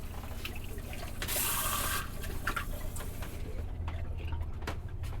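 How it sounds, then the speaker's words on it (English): Water runs from a swivel faucet into a ceramic farmhouse sink inside a 2025 RAM ProMaster campervan kitchen, a steady close hiss with a brief louder surge in the middle, no talking. "A ceramic farmhouse sink, a swivel faucet with both hot and cold water"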